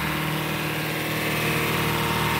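A car engine idles steadily during an engine flush, a constant close mechanical hum with an even, unchanging drone and no talking.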